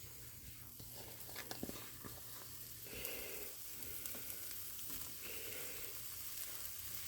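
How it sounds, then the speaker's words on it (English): Bacon frying in a pan gives a steady, quiet crackling sizzle with faint patter and a few small pops, constant throughout and heard from a little distance, with no voices. "first step will be to get this bacon frying up in a pan"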